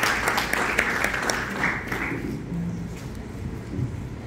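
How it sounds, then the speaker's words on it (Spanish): Audience at a conflict-resolution congress in Panama claps to welcome a speaker, moderate clapping in the first couple of seconds that quickly thins and fades into room noise. "Desde la hermana República de Colombia recibamos con un fuerte aplauso a la doctora Laura Bañol."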